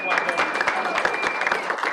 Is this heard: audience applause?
yes